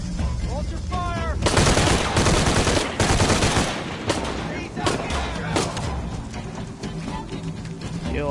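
Bursts of automatic and single gunfire fill a Shadow of the Tomb Raider firefight, loud and dense, with rapid cracks and thuds under in-game voices shouting.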